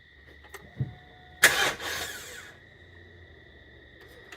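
BMW E53 X5 engine turned over with the ignition key: a short starter crank catches into a brief rev, then settles to a quiet idle, heard close with a faint click beforehand and no talk.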